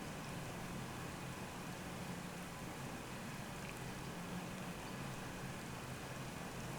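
Steady, soft video game rain hisses continuously with no other distinct sounds.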